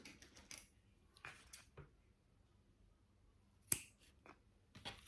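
Scissors snip ribbon for a seaside-themed mini album, several short crisp cuts spaced apart in a quiet room, one snap sharper and louder than the rest.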